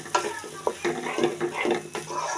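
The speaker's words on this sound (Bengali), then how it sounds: "নুডলসগুলো দিয়ে দিলাম। নাড়াচাড়া করবো একসাথে।" Quick instant noodles are stirred and tossed in a hot frying pan, giving a close, busy mix of sizzling and scraping clatter over a couple of seconds.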